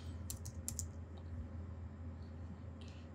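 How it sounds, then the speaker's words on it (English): A few quick keyboard taps entering a password, a brief burst of soft clicks early, then a single click later, quiet and close with no talking. "Type your password, preferably something simple like 1234 or deck, something like that."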